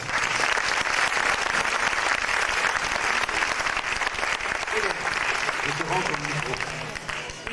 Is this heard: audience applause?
yes